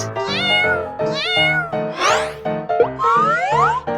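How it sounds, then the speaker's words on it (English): A domestic cat meows repeatedly, five or so loud rising-and-falling cries in quick succession, close up and alone. "This is a cat."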